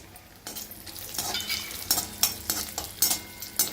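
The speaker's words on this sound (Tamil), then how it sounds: "இது நல்லா வறுத்துட்டு எடுத்து வச்சுக்கணும்." Chopped cashews sizzle softly in a hot pan while a spoon scrapes and stirs in repeated quick strokes, close up, with no talking.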